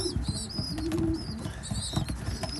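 Young racing pigeons coo steadily in a loft during weaning, soft repeated low throaty calls close by, with faint chirps and light rustling mixed in.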